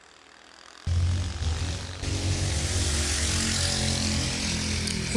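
Old-school drag racing cars at a bracket race launching down the strip, with a sudden loud engine roar that jumps in and then stays at a steady, heavy drone close by.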